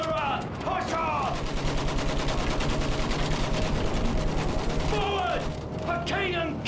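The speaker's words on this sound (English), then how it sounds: "Use that machine gun! Mow them down!" Machine gun fire in the World War I shooter Battlefield 1, a loud sustained rapid burst of evenly spaced shots lasting several seconds, close by, with shouting voices before and after it.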